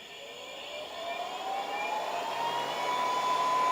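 Exhaust air fan on a Kaleido M10 coffee roaster spinning up, a rising whine and whir that grows steadily louder over a few seconds, heard up close with no talking.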